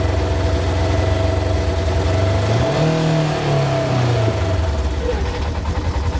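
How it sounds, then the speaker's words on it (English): A 2022 Polaris RZR Trail S engine with a misfire revs up under throttle, holds a higher pitch and then slowly falls back toward idle. It is loud and close, with a rough, uneven note. "when I just give it a little bit more throttle, it kind of held the higher RPM, came down slowly"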